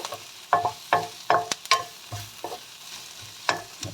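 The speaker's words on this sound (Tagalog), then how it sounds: "pwede na natin siyang ihalo doon sa sabaw" Stirring a browned sautéed mix of onion and anchovies into a pot of monggo (mung bean) soup, with several separate scraping, clattering strokes of a spoon spread through the clip and no one talking.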